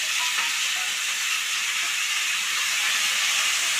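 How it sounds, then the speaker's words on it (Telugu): Tomatoes frying in a pan as part of a paneer dish, a loud, steady, unbroken hiss of sizzling with no pauses and no voices. "టమాటాలు వేయించుకోవాలి."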